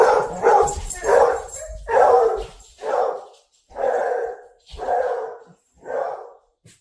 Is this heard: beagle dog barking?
yes